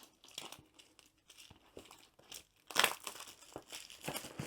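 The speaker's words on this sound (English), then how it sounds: "So we'll take the cellophane off" Thin cellophane wrap on a diamond art kit box crinkles and crackles in irregular bursts close by, with one louder tearing rustle partway through.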